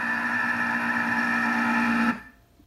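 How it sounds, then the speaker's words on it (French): Thermomix food processor kneading bread dough for Viennese bread, a steady loud motor whir with a strong tonal hum that runs for about two seconds, then cuts off abruptly into near silence. "vous mettez en mode épi, c'est-à-dire que ça va pétrir la pâte"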